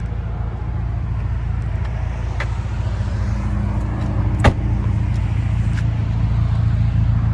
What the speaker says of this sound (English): And just a good sounding rumble from this 2-liter